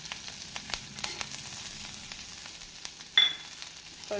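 Onions and garlic sauté in a pan for a Tamil spicy tomato chutney. A quiet, steady sizzle carries scattered soft clicks and one brief louder scrape near the end.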